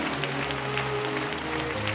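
Church congregation applauding together, a steady dense wash of clapping that fills the whole stretch, with a sustained organ or keyboard tone underneath.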